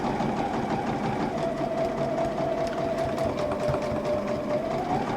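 A sewing machine stitches quilt pieces together with a steady, loud, continuous whir that runs the whole time, its motor pitch dipping slightly midway, with no talking.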